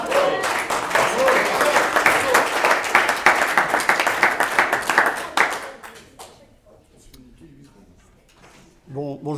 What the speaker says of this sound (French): Est-ce qu'on peut applaudir Nicolas Froment,